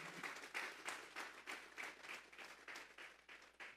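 A church congregation claps together during a Sunday service, a steady, fairly quiet patter of many hands with rhythmic pulses roughly every third of a second, heard from a distance in the hall.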